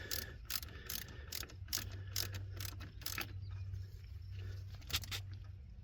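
Ratcheting clicks from a wrench snugging a fastener on a fusible link wire in a 2004 Chevy Silverado, a quick run of close mechanical clicks over a low steady hum, with no talking.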